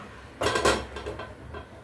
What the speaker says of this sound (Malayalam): ചട്ടി അടുപ്പത്ത് വെക്കാം കേട്ടോ